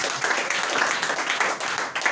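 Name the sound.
audience applause for a church member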